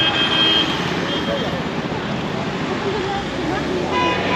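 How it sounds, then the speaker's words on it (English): Car horns honking amid dense city street traffic in Tirana, Albania, short toots rising over a loud continuous roar of engines and road noise, close by. "They're a big fan of the horns in their cars here, right? You can hear it."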